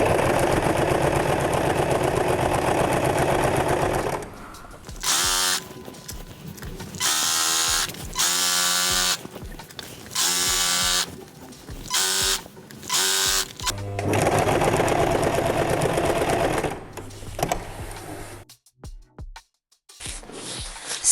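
Sewing machine hemming a blackout curtain, stitching in repeated rhythmic bursts of fast mechanical whirring and clatter separated by short pauses, close and fairly loud with no voice.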